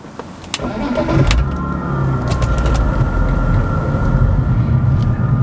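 A BMW 330Ci Club Sport engine cranks and catches, then settles into a steady, loud idle with a few sharp clicks early on, close up and without talk.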